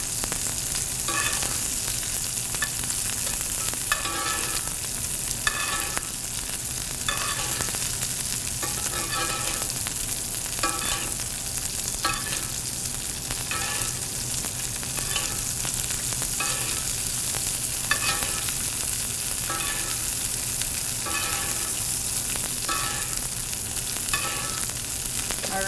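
Steak searing in a pan, a loud, steady sizzle and crackle running throughout, with a regular rhythmic scraping or spooning in the middle, close and without any talk.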